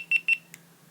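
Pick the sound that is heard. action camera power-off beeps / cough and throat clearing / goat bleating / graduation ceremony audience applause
action camera power-off beeps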